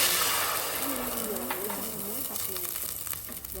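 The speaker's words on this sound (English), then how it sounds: "I will sauté garlic and onions in a little cooking oil" Garlic and onions sizzle softly in a little cooking oil in a pan, a close, steady frying hiss with faint clinks, while a voice talks over it.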